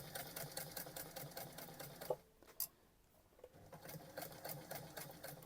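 A sewing machine stitches the seam of a large Christmas stocking, running in a fast, even mechanical patter that pauses briefly in the middle before resuming, close and fairly quiet.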